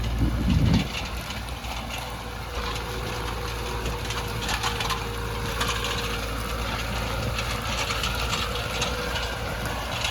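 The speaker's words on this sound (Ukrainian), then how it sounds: "Тракторець тягне взагалі без питань." A tractor engine drones steadily at close range, a continuous low rumble with rattling mechanical noise from the disc harrow it pulls.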